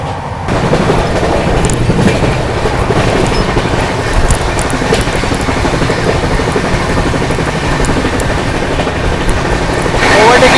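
The NZM–Pune AC Duronto Express runs on the rails at speed, giving a steady, loud rumble with rhythmic clickety-clack from the wheels throughout.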